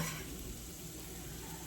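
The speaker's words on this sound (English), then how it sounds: "right now I have my pan going and it's nice and preheated. And this is only gonna take a few minutes, but I just like to kind of saute them first" Steady low sizzle of food sautéing in a preheated pan, a faint continuous hiss with no talk over it.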